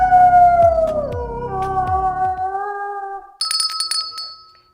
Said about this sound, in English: Is there a loose dog in the studio?